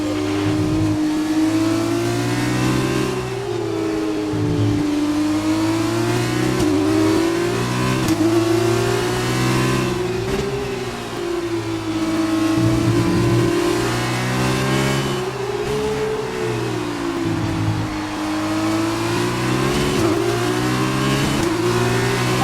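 Race cars accelerate during a race, their engines roaring loud and close with repeated rising and falling revs as gears shift, a continuous layered whine of several engines with no voices.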